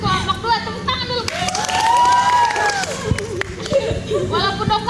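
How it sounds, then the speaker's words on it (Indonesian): Applause and cheering ring out for group 2 at an outdoor psychology-campus training event, a steady burst of clapping with voices and shouts layered on top. "tepuk tangan dulu."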